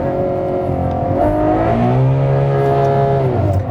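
A Ferrari GTC4Lusso V12 engine revs loudly and smoothly toward 8,000 rpm, pitch climbing in rising harmonic sweeps, close and sustained with no talking.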